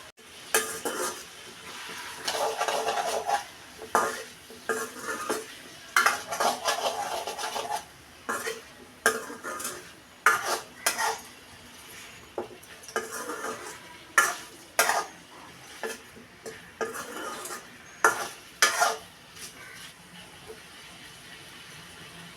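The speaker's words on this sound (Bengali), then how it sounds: "দিয়ে দিচ্ছি হলুদ গুঁড়ো, নেড়ে চেড়ে একটু কষিয়ে নিব" A utensil stirs turmeric powder in a sizzling pan for a prawn and sweet pumpkin curry, giving a rhythmic run of scraping, clinking strokes over a soft frying hiss. No one speaks.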